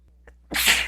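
A single sharp sneeze bursts out after a faint preparatory intake of breath, close and loud, with nothing else around it.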